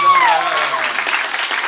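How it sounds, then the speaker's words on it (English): Brief burst of audience applause at a live comedy show, dense and close, filling the short moment after a comedian leaves the stage. "I know it wasn't that great, but clap for him"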